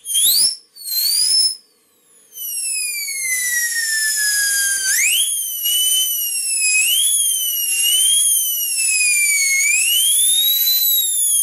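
A model steam whistle blows shrill and loud in short blasts and then holds, its pitch sliding down and wavering as the steam pressure shifts.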